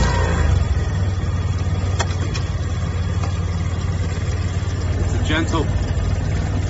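The engine of a BD125 motorcycle runs steadily up close as the rider shifts from second gear back to neutral, giving a constant low drone with a faint click, while someone talks over it.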